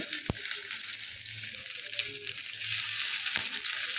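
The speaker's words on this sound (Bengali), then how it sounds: "এখন কিনতে নিয়ে রসুন ভেজে নেব" Steady close-up sizzling of garlic frying in hot oil, with a couple of sharp utensil taps.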